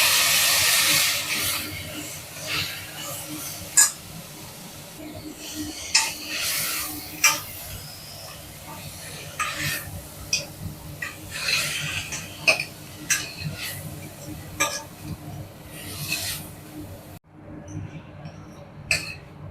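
Puréed tomatoes sizzle and hiss softly in a pan for a karamani gravy, with a steady low frying hiss broken by scattered sharp spits and pops, fading to near silence at the end.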